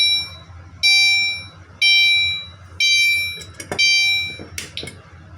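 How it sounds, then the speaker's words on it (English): A home fire alarm wired to a light switch sends out loud, close chime-like beeps, four evenly spaced tones, followed by brief handling clatter. "The fire alarm was on chime and beeped."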